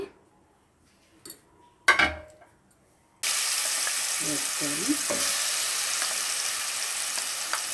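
Marinated prawns dropped into hot oil in a pan for prawn biryani, a sudden loud, steady sizzle that runs on close by after a few clinks of a spoon, with some stirring scrapes in the hiss.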